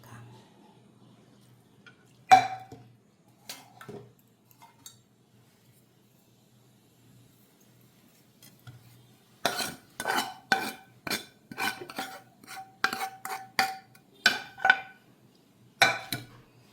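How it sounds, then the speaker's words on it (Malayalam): Grated carrot is stirred into puttu flour in a bowl: a few isolated clinks, then a steady run of rhythmic spoon taps and scrapes against the bowl, close and fairly crisp. "ക്യാരറ്റ് നമുക്ക് ഇതിലിട്ടിട്ട് ചേർത്തെടുക്കാം."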